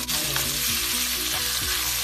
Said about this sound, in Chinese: 放啲油嚟爆個冬菇先